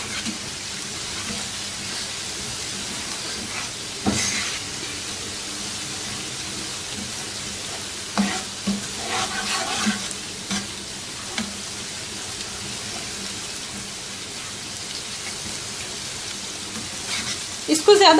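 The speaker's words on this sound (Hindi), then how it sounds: "सबसे पहले इसके अंदर जिंजर गार्लिक पेस्ट डालेंगे और इसको थोड़ा सौते कर लेंगे।" Ginger garlic paste sautéing in about four tablespoons of oil, a steady low sizzle with occasional stirring scrapes and clatter, close up and moderately loud.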